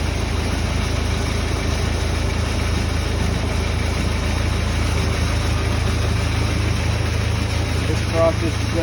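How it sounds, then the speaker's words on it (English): Steamaction Stealth truckmount engine idling with no load during descaling, a steady loud drone with low rumble and constant vibration that holds even throughout, with no pauses or changes. "make sure you keep your machine on idle with no load."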